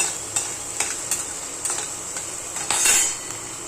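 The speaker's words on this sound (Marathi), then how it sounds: "हे ना एकदम ब्राऊन कलर होईपर्यंत कांदा भाजायचा आहे" Onion browning in a pan for a broad-bean pod vegetable dish, with a constant hiss of frying under repeated metal spoon scrapes and taps against the pan, close and fairly loud, with a longer scrape near the end and no talking.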